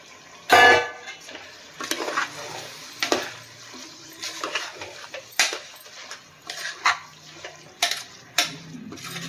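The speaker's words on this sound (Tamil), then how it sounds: "அரிசி சேர்த்துட்டு நம்ம நல்லா கலந்து விட்டுடலாம்" Rice being stirred into vegetable biryani in a pot: a string of scraping, clinking spoon strokes against the metal, irregular and close, with short gaps of quiet between them.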